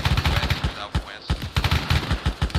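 Rapid bursts of gunfire during a game operation crackle close and loud in quick repeated volleys, with a brief lull in the middle before firing resumes.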